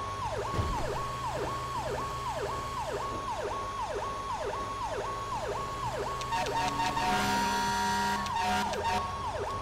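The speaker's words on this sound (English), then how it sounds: "power call siren" An LAFD fire engine power call siren in GTA 5 wails in a fast, repeating up-down cycle over a steady engine rumble, joined midway by a burst of harsh electronic tones.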